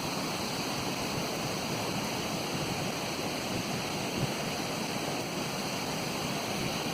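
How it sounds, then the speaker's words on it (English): Muddy, silt-laden creek water pours out of a road culvert near a lake after erosion, giving a steady, broadband rushing roar that stays close and constant throughout with no talk. "You can hear the water pouring out of the culvert behind me."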